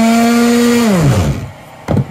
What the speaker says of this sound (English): And now I'm going around with the reciprocating saw.